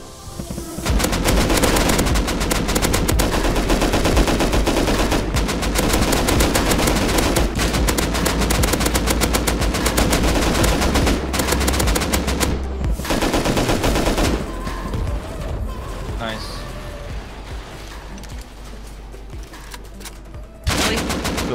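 Sustained automatic gunfire in the survival game Rust, aimed at an attack helicopter; dense rapid bursts fire loud and near for about fifteen seconds, then thin to scattered shots with a final burst at the end.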